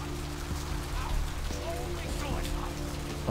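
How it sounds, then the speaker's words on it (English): Steady rain falling outside in Vampire Bloodlines, a continuous hiss of drops on surfaces under a low game ambience, with a voice talking faintly over it. "it's actually raining outside."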